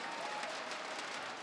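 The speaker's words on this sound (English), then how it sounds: "a crowd is loving it." A packed esports arena crowd at a Counter-Strike match between Liquid and FaZe cheers and claps in a steady, distant wash of applause.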